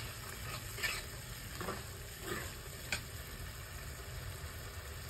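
Masala with peas frying in a pan while being roasted for a Punjabi mattar dish, a steady soft sizzle with a few scraping stirs of a spoon, close and alone with no talking.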